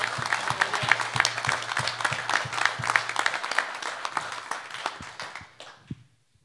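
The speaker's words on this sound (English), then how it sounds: "a big round of applause" Audience applause at a commission hearing on a correctional staff wellness crisis: a dense round of clapping with sharp individual claps mixed in, held steady for about five seconds, then thinning out and stopping.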